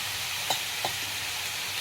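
Onion and broad beans sauté with chilli powder, ginger-garlic paste, turmeric and salt in a pan, giving a steady close sizzle with a couple of faint stirring scrapes.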